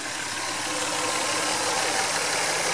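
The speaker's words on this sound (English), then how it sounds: "the V6 engine on this Mazda is running as sweet as a nut." The V6 engine of a Mazda MX3 fitted with an HHO hydrogen system idles steadily, a smooth even hum heard up close and constant throughout with no talking.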